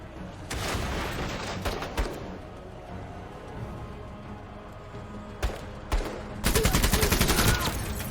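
In the video game MENACE, a chain gun fires in short bursts, with sharp isolated shots early on and a dense, loud sustained rattle near the end over a low ambient rumble.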